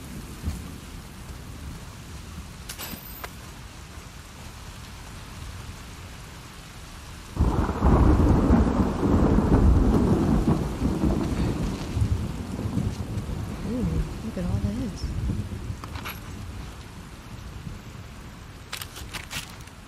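Thunder rumbles in the video game The Last of Us Part 2, a loud rolling crash breaking in mid-clip over steady rain, then slowly fading back to the soft patter of rainfall.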